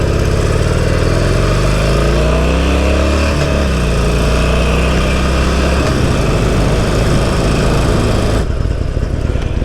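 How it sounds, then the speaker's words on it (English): Harley-Davidson Sportster 48 V-twin engine running after an oil change, loud and close with a rough, throbbing idle that revs up and settles, the pitch rising and falling over several seconds. "Nothing like changing the oil and like running the shit out of the bike, right?"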